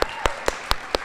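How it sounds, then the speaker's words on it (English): A round of applause at a school career day event: several sharp, evenly spaced claps in quick succession, fairly close and clear, with little other sound around them. "Let's give him a round of applause."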